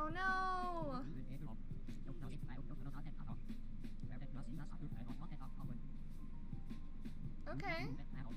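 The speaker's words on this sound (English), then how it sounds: "There's a cat!" A cartoonish cat meows in the cozy video game Calico, one drawn-out call at the start and another near the end, both heard over steady game background music.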